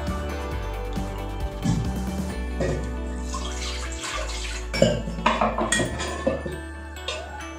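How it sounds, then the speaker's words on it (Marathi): Hot water poured into a thick mutton rassa curry in a village-style pot, a running, splashing pour followed by clinks of utensils against the vessel, close and moderately loud. "थोडंसं गरम पाणी, कारण भाजी आपली एकदम घट्ट अशी झालेली आहे, त्यासाठी थोडंसं पाणी घालणार आहे"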